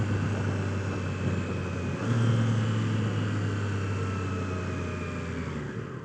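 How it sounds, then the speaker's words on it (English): A 2022 Triumph Tiger Sport 660 motorcycle with a troublesome quick shifter rides along with a steady engine drone and wind roar, and its pitch shifts around a downshift midway through. The sound is continuous and fairly close. "I'm about to try the downshifts and see how that works"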